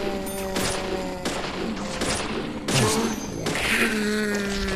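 Gunshots in the video game Deadly Premonition, with several loud, separate cracks a second or so apart over a tonal game music bed, the shots punctuating the scene.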